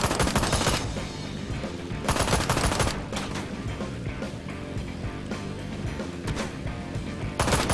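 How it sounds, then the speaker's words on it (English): Bursts of rapid gunfire crackle in the Ride to Hell: Retribution video game, with volleys fired into the sky at the start, near the middle and again at the end, over a steady background of game sound. "You do see those shots into heaven over there, right?"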